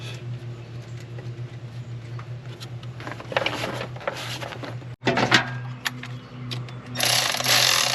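A ratchet runs down the valve cover bolts on an LS engine, a rapid mechanical clicking that is close and steady over a constant low hum and gets louder near the end.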